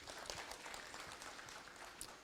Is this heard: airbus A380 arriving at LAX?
no